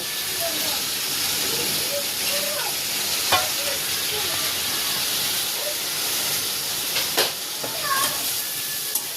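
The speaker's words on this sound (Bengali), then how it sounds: "মশলাটা কষিয়ে তারপরে ডালের মধ্যে দিয়ে দেব" Spice masala for a vegetable khichuri with cauliflower, carrot and potato frying in a pan, a steady broad sizzle with occasional stirring clicks and scrapes, while someone talks over it.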